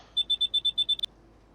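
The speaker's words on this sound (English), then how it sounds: "There was a lot of annoying beeping as he went full," A rapid run of seven identical electronic beeps in a video game as a unit refuels to full, then two quicker chirps, bright and evenly spaced.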